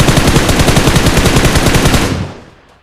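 Automatic gunfire rattles in PUBG Mobile as a rapid, loud, close burst of evenly spaced shots lasting about two seconds. It is followed by a short fading tail.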